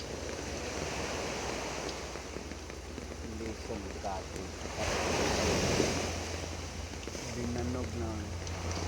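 Rough-weather waves breaking on a shore, a constant roaring surf with wind buffeting the microphone and a louder surge midway, while people talk over it.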